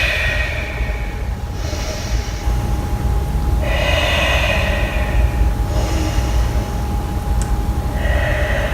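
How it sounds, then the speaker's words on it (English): Heavy breaths are pushed out through the nose during a breathing exercise, several long forceful exhales in a slow, steady rhythm, loud and close over a steady background hum, with no talking. "exhale front"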